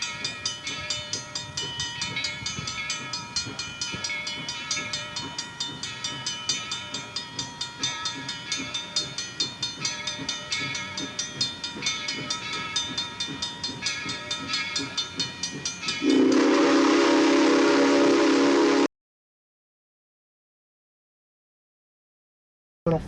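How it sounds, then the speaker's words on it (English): A steam train on the Putnam Division line rolls past with a steady, rumbling clatter of cars for a long stretch, then a loud, sustained whistle blast sounds before the noise cuts off. "the video you'll be seeing shortly of steam trains operating on the Putt"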